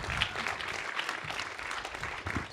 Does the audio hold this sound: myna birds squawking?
no